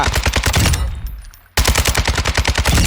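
An RPK light machine gun fires in Warzone 2.0 in loud, rapid full-auto bursts up close. A short pause, likely a reload gap, breaks the firing before the sustained fire resumes.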